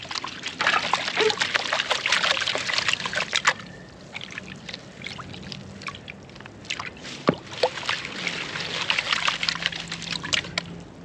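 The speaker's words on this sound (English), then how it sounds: "Now we're gonna pan it out." Water sloshes and trickles in a gold pan during panning of sluice-box material outdoors, with a series of soft swirls and splashes that rise and fall, including a few sharper dribbles, fairly close and quiet.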